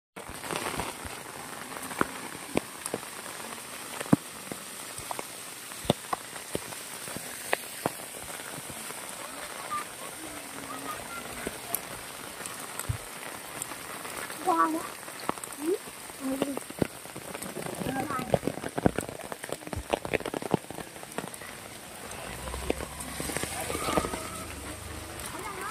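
Rain falls steadily on surfaces in the Konkan countryside, a constant wash dotted with sharp drip and splash ticks, with faint voices now and then in the background.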